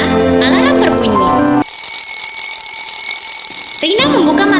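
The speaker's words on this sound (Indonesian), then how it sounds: "Keesokan paginya, alarm berbunyi." Alarm clock ringing in the morning, a loud steady electronic tone sounding for a couple of seconds between bursts of chiming music, close and clear.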